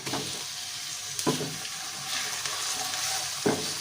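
Cubes of chicken, about 300 grams, fry in a pan with a steady close sizzle and hiss, broken by a few sharp stirring scrapes and knocks.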